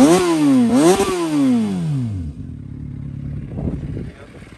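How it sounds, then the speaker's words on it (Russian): A Suzuki GSR400 motorcycle engine with its standard exhaust revs up and down twice in quick blips, then drops into a steady, even idle. "Двигатель работает ровненько, без посторонних шумов. Приятный звук от стандартного выхлопа."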